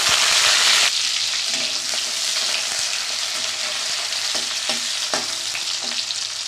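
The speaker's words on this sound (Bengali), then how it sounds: "কড়াই গরম হয়ে গেছে, তেল দিয়ে দিলাম। একটু সাদা জিরে দিলাম, একটা পেঁয়াজ কুচি দিলাম" Chopped onion and cumin seeds frying in hot oil in a wok, a loud, steady sizzle that flares sharply at the start and then settles, with occasional stirring clinks and no talking.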